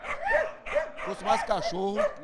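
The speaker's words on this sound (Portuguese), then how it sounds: "Porque é o latido aí a noite toda, uma confusão terrível." Several dogs barking and yipping in a residential neighbourhood, short repeated barks in quick bursts, close and fairly loud, overlapping with each other.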